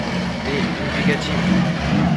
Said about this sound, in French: Et une Bugatti